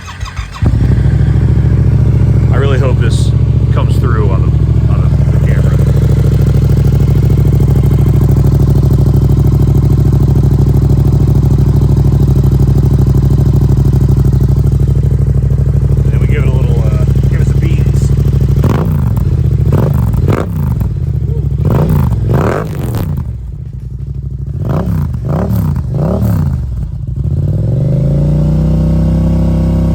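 A Yamaha R7 motorcycle idles loudly after a cold start, its engine humming steadily and close for a long stretch before several sharp revs rise and fall near the end. Someone speaks briefly over it.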